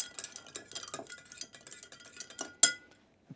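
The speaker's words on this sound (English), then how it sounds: "So, I'm supposed to stir it until it's frosty." A cocktail stirred over ice in a mixing glass, light clinks and scraping chimes repeating in quick irregular strokes, close and fairly quiet, ending with a sharper clink.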